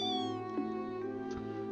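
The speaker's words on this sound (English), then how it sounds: "The tiny little baby mews is so cute." Small kittens mew in the video game Trails in the Sky SC, a few high thin cries repeating close by over a steady musical backdrop, with no talking.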